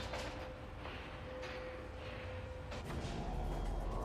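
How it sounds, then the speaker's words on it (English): Elevator moving in the video game L.A. Noire: a steady mechanical hum and rumble with a faint tonal whine, growing slightly louder near the end, heard alone without talk. "So this elevator is quite slow."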